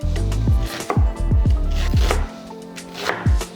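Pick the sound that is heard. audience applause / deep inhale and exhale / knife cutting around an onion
knife cutting around an onion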